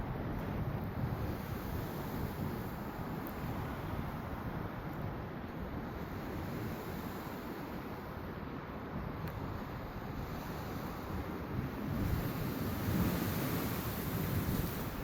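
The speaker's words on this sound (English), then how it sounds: "And the waves are pretty high." High waves roll and crash continuously along the Lake Michigan lakefront at Hyde Park in Chicago, a dense steady roar mixed with gusting wind buffeting the microphone, fairly faint and without talking.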